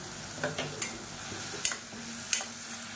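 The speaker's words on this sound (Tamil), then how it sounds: "சேர்த்துட்டு பச்சை வாசனை போக வதக்கிக்கலாம்." Soft sizzling of tomato sautéing in a pan with a spoon scraping and stirring a few times, close and fairly quiet, no speech.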